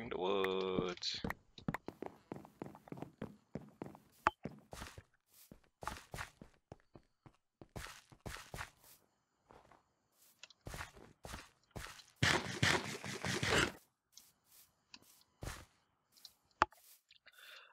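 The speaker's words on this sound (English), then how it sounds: "chopping a tree, getting the wood" Rapid, dry knocking hits come in bursts as a tree is chopped for wood in Minecraft, separated by short silences, with one longer rustling burst near the end.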